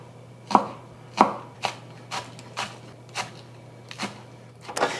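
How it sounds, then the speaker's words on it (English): A knife slices green onion on a cutting board in about eight crisp, evenly spaced chops, close and clear over a faint steady hum, with no talking. "I'm also gonna slice up a green onion for garnish."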